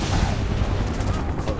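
Rapid gunfire from a battle in the video game Final Fantasy VII Remake keeps up without a break. The shots blur into a dense, loud barrage with booming low end, and voices may be faintly mixed in.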